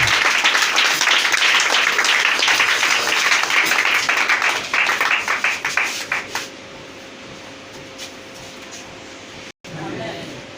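A church congregation applauds and cheers continuously for about six seconds, the clapping thinning into scattered claps before fading to quiet room tone.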